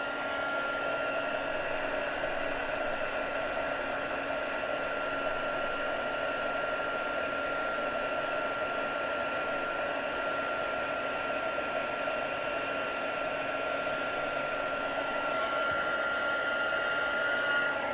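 A heat gun melting white embossing powder blows with a steady, loud whirring hiss that holds unchanged for the whole stretch, with no voices.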